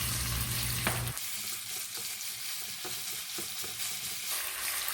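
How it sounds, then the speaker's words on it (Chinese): Sliced pork stir-frying in a little corn oil, a loud, continuous sizzle with a heavy burst at the start, then steady crackling broken by several sharp clanks of stirring, close up. "放入肉片煸炒，把肉片在油中滑散"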